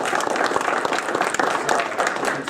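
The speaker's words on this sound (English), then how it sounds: "I want to give a round of applause to Crystal" Audience applause at a student-run event: dense clapping from a crowd, fairly loud and continuous throughout, with a faint murmur of voices mixed underneath.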